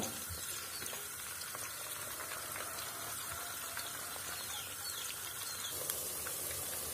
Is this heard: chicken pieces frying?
yes